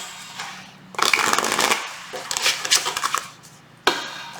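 Tarot cards being shuffled in quick riffling bursts, a longer rustle followed by a second flurry and a final short snap, close up.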